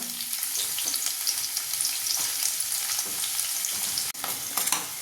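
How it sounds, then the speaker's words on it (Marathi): Onion sizzles steadily as it fries in a pan with turmeric, with occasional scraping stirs and a sharp clack near the end; no voices. "कांदा चांगला परतून घ्यायचा."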